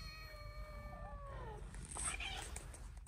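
Several kittens meow in high, wavering cries that overlap at the start, outdoors over a steady low rumble, with a brief scuffle of sounds later.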